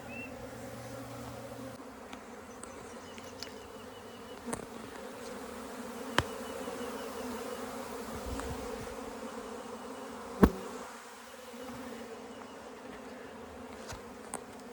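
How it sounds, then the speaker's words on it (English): Honeybees swarm around combs as they rob out leftover honey, a steady soft buzzing drone close by, with a few sharp clicks and knocks breaking through. "I've got bees that are pretty much robbing out this excess honey and whatnot that you know, might be on some of these combs"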